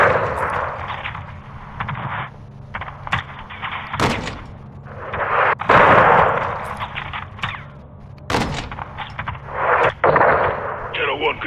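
Call of Duty Modern Warfare II close air support: booming air strike blasts and bursts of gunfire, loud and close, with several heavy impacts between sustained rumbling combat noise and radio chatter underneath.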